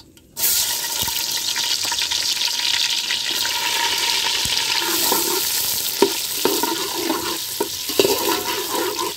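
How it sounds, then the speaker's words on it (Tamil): Sliced onions sizzle in hot oil and ghee with cinnamon, cloves and cardamom for a biryani, a loud continuous crackling fry broken by scraping stirs of a spoon in the pan. "இப்போ பல்லாரி வெந்துக்கிட்டு இருக்கு."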